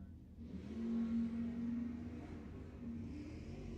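Drag race cars accelerate down the strip at Lebanon Valley Dragway, a steady mid-pitched engine roar that swells early, holds with a sustained droning tone, then eases slightly while staying loud.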